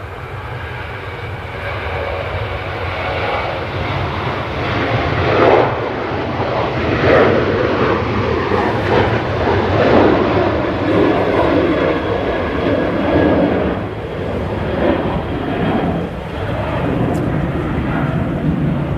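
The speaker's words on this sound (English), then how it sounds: "we have this Ryanair" A Ryanair Boeing 737-800 jet airliner at Manchester Airport gives a sustained loud engine roar that swells and eases over about twenty seconds, with people talking over it.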